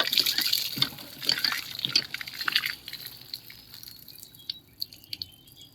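Water draining out of a portable swimming pool, close trickling and dripping with splashy gushes that are heavier at first, then thin to sparse individual drips.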